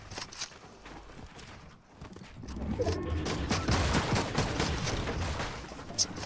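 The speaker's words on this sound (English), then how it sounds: "Who's the AI shooting at?" AI soldiers exchange gunfire in a video game, with rapid bursts of shots that grow denser and louder midway into a steady, sustained fusillade of sharp cracks.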